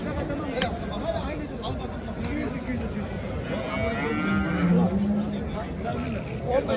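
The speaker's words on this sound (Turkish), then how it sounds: "ineklerimiz var." Cattle moo at the busy Kastamonu livestock market in Turkey: one drawn-out moo rises midway through, under constant crowd chatter and nearby talking.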